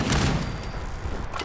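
A Gatling gun fires in Fallout 76, a rapid, loud, continuous rattle of shots with booming low end, close and sustained for the whole brief burst.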